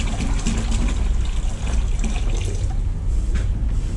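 A gallon of water poured into a bucket of self-leveling concrete mix for a bathroom floor: a continuous close splashing gush that lasts about four seconds.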